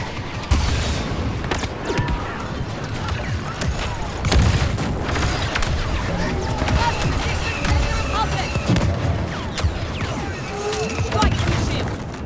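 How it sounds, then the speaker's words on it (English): A grenade goes off in a Star Wars Battlefront II battle: a deep boom rises midway through a dense mix of scattered blaster fire and battlefield noise, with voices speaking over it. "Grenade deployed!"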